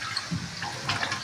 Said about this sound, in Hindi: बस हम इतना सा पानी डालेंगे ताकि जो मसाले हैं सब अच्छी तरह से मिक्स हो जाएं।